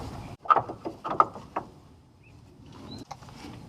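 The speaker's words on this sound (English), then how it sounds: "Just going to G-clamp this piston back." A G-clamp is tightened to push a brake caliper piston back on a Ford Fiesta, giving a few close metallic clicks and creaks, then a brief pause and a faint final knock.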